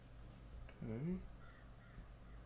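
Birds cawing in the horror game In Silence, one short harsh crow-like caw rising mid-clip over a quiet low hum, with faint noises after it.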